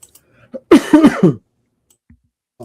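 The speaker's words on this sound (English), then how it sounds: "So you get my coughing." A burst of three or four quick coughs, close and loud, with soft clicks and quiet before and after.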